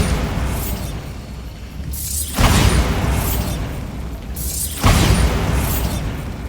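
Two loud blasts from the Bombarda spell in a Harry Potter video game, each a sudden booming burst about two and a half seconds apart, over a steady mechanical ambient bed.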